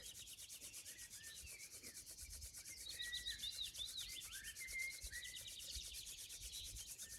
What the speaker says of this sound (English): Make sure to rub your hands vigorously.